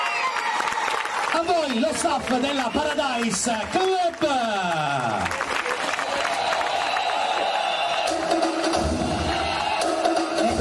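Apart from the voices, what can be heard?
audience applauding the dance instructors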